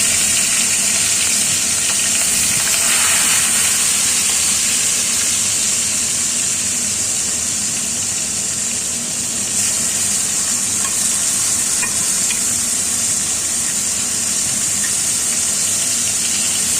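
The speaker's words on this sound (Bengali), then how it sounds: "এবার আমি এক এক করে মাছগুলো সব ভেজে নেব।" Siphon fish frying in hot oil in a kadai, a dense, continuous loud sizzle with bubbling and spitting that holds steady throughout.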